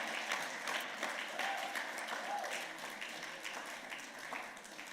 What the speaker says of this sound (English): give a massive round of applause to the organizers of this event